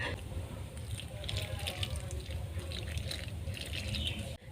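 Hot milk poured over freshly fried rasmanjuri pitha in a cooking pan, a steady close liquid pour that runs continuously and cuts off abruptly near the end.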